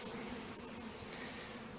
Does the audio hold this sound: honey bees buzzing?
yes